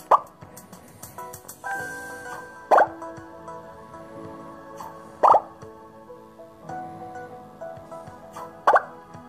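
Bubbles pop in Ultimate Bubble Shooter as four crisp plopping hits spaced a few seconds apart, over soft chiming game tones and background music.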